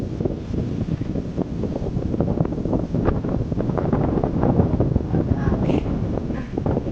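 Strong wind roars and buffets the microphone in a steady, loud low rumble that barely lets up for the whole stretch, strong enough to push a bike sideways.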